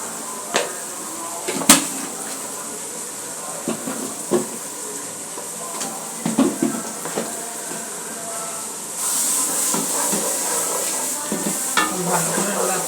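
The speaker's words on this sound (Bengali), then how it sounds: "ভালো করে মশলাগুলো কষাতে হবে।" Spices with chili powder fry for a beef curry, giving a low hiss of sizzling oil with scattered scrapes and taps of a spoon stirring, the sizzle growing fuller near the end.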